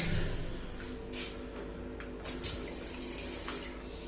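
A hotel washroom tap in Jaisalmer runs steadily, a continuous close hiss of flowing water into the basin, unbroken for a few seconds with no one talking.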